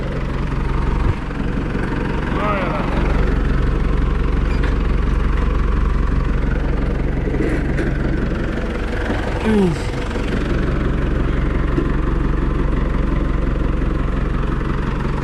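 A 1983 Ford 7610 tractor's diesel engine idles steadily with a low, rumbling drone throughout, while people talk nearby over it.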